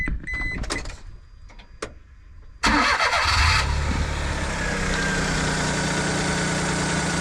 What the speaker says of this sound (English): let's start it up, see how it sounds. It's fuel injected, which is great.